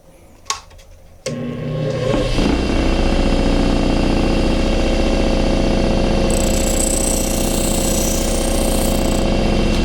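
A powered sharpening wheel shapes a convex edge on a knife: after a couple of short knocks the motor spins up into a loud, steady whirring drone, with a brighter grinding hiss joining partway through.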